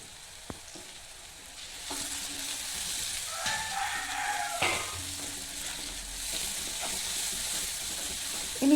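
Turmeric and salt stirred through sizzling food in a pan, a steady close frying hiss with soft scraping strokes of a spoon.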